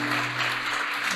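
Applause from a church congregation at a Sunday service, a brief, dense burst of clapping heard alone at moderate level with a faint steady hum beneath.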